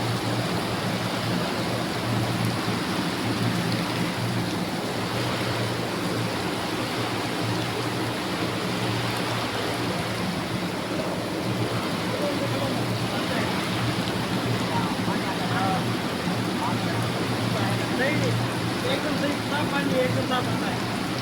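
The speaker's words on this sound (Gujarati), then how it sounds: "ફૂલ વરસાદ છે. ફૂલ વરસાદ." Heavy monsoon rain pours steadily in Ahmedabad, a dense, constant hiss of water hitting streets and roofs that continues unbroken throughout at close range.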